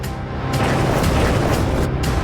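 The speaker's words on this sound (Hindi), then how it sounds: "तेहरान में धमाके।" Continuous heavy rumbling and roaring of explosions in Tehran during war, blending into one dense, booming wall of sound with no clear gaps.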